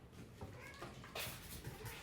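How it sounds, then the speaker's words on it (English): A cat in a home kitchen during baking gives a soft, faint meow or two over quiet room noise. "Cat just got on the counter."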